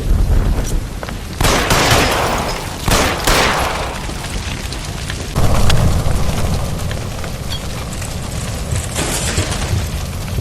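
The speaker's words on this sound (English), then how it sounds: "Look, by the stove! Shoot the gas line, Cole, we're out of here!" A gas line explosion in the video game L.A. Noire brings loud, close booms and crackling blasts, then a heavy roar of rumbling debris and fire that carries on steadily.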